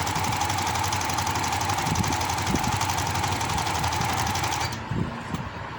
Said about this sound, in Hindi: इसी तरह 1/2 इंच का दबाव रखते हुए मैं इससे भी सिलाई लगा देती हूँ